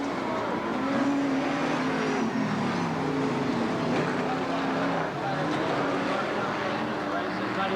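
Late model and sportsman race cars roar around an oval track during a 1990 semi-feature, a dense continuous engine drone with shifting pitch as cars pass, under steady announcer commentary.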